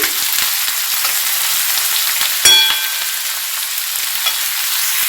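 Spice paste for radish dal sizzling in a pan, a bright steady hiss up close with a few light stirring taps and one sharp metallic clink near the middle, with no speech.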